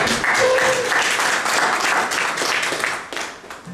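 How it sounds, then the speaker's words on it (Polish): An audience at the preTEXTY literary festival in Świdnica, during The Battle of 7 Words, claps in steady, lively applause that is loud and near at first and gradually thins out toward the end. "Wielkie brawa dla Natalii."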